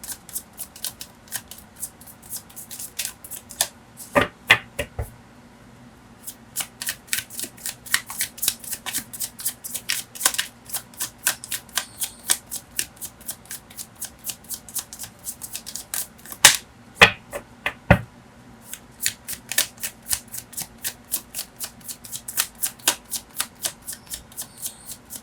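Tarot cards are shuffled up close in quick, rhythmic riffling bursts that repeat throughout, with a few short pauses between rounds and no voice.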